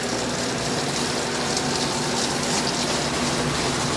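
Close up, a Panda PAN50SW portable washer spins with an even, rushing motor whir and a faint hum, water gushing and draining steadily, with no voices.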